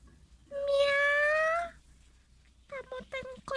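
A cat lets out a single drawn-out meow up close, followed by a few short voiced sounds that may be talk.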